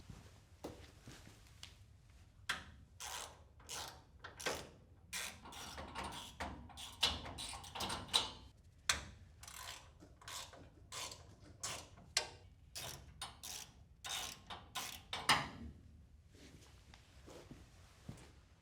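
Screws being tightened to secure the top of a Tekton tool cabinet, heard as quiet, irregular metallic clicks and taps spread over several seconds, close by and alone.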